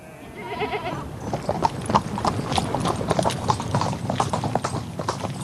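Horse hooves clip-clopping in Xinjiang, a steady rapid patter of hoofbeats growing louder as the animals come close, with a brief bleat early on.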